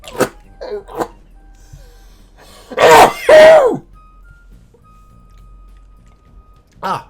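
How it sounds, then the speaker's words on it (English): A man has a sneezing fit: a few small throat sounds, then two loud bursting sneezes close together, and another short one after a quiet pause, all close to the microphone. "Just had a little sneezing fit."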